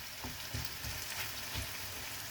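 Mixed vegetables fry in a pan with oyster sauce, a constant close sizzle with soft periodic stirring knocks from the spatula.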